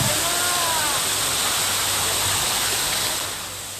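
Waterfall at Nan Liang Garden pouring as a loud, dense, continuous rush of falling water, close and unbroken, easing slightly at the end.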